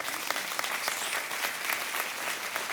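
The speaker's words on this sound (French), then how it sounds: "Vous pouvez applaudir." A church congregation applauds during a sermon, a dense, even wash of many hands clapping continuously at moderate distance, fairly soft and without breaks.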